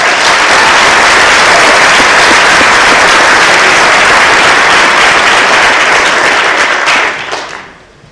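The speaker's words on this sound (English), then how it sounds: "Please give them a round of applause." A large audience at the Vail Film Festival 2013 claps loudly and steadily, a dense wash of applause that holds strong for several seconds before fading out near the end.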